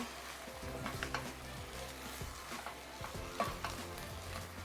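Curry being stirred gently in a single pot, a steady run of soft scraping and bubbling sizzle with small clinks, close and fairly quiet, with no talk.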